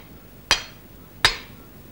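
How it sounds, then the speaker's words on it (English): Two sharp metallic hammer blows on a metal rod, struck to magnetize it in a science demonstration, each a bright ringing clang with a short decay, spaced under a second apart in a quiet room. "and hit it with the hammer"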